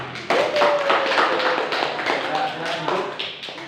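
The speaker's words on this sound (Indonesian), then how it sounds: "maka kita beri aplaus untuk kelompok 2" Applause from a classroom audience after a student group finishes presenting: a short burst of scattered, fairly close clapping, with a voice and other sounds partly over it.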